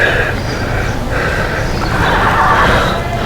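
A wild mustang mare whinnies loudly and repeatedly in long, wavering neighs close by, over a steady background rumble, with no talking.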